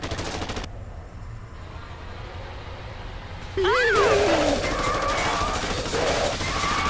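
Rapid automatic gunfire from the Haunted Museum arcade light gun game (Taito, 2009) rattles on at a steady pace, joined partway through by sweeping synth sound effects, with game voices layered over the top.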